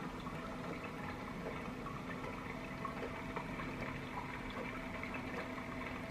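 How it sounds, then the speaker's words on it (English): A baby swing plays soothing water sounds, a soft continuous trickle and bubble heard quietly in a calm room. "There's soothing water sounds."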